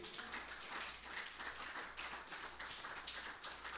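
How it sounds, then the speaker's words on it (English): A church congregation clapping hands together in steady rhythm, a dense, moderately loud patter of many hands repeating with a regular pulse throughout. "would you clap your hands unto the Lord?"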